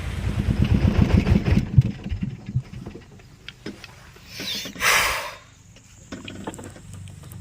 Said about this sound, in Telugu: వెళ్ళిపోతున్నారు ఒక్కొక్కరు ట్రాక్టర్లు ఆటోలు